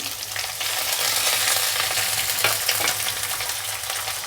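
Chopped onion and green chilies fry in hot oil, a steady close sizzle and crackle that holds without pause and with no talk.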